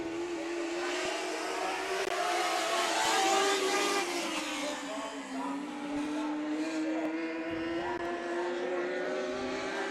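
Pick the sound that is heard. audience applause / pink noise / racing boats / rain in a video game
racing boats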